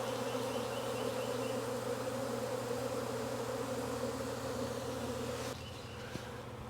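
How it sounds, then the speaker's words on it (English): A swarm of honeybees fills the air with a dense, continuous buzz, close and steady, softening slightly near the end as the drone thins out. "There's a lot of bees in the air too."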